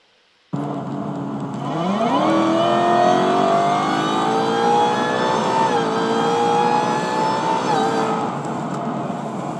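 A Ford Mustang engine starts loud and revs up, rising in pitch as the car accelerates hard, then holds a steady roar with a brief shift midway.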